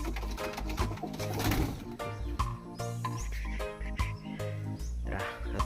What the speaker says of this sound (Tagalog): Di mga kalapati